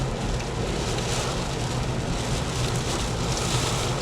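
Rain pours steadily while a car drives along the road near Harrisburg, Pennsylvania, crossing a bridge over the Susquehanna: a dense, even hiss of spray and tyre noise with a low rumble underneath, constant and close.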